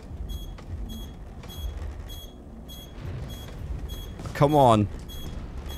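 Star Citizen spaceship warning beeps repeat in a steady pulsing rhythm over engine hum, with a brief rising electronic warble near the end and a voice speaking briefly.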